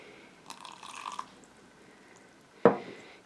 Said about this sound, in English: pour your water a couple